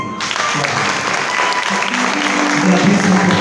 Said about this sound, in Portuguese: Aplaude aí aqui.